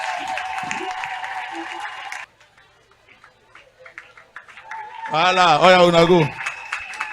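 A church congregation applauds for the Lord in a loud burst of clapping and cheering near the end, after a stretch of worship talk and quieter murmurs; a voice speaks over the start.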